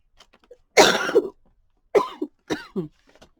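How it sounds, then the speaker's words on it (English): Several harsh coughs in a row, one long rasping burst followed by shorter ones, close up with quiet pauses between. "while I was having my little coughing fit"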